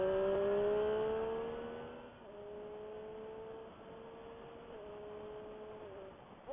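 A car accelerating hard, with a rising engine whine climbing through the gears over several seconds, steady and fairly close, with brief dips at each shift.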